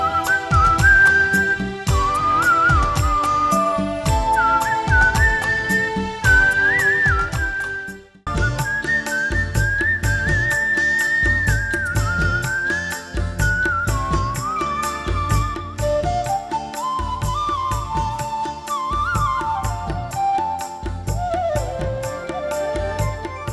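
A female whistler performs a melodic tune, sustained and gliding whistled notes over a steady rhythmic musical accompaniment, loud and continuous apart from a brief break near eight seconds.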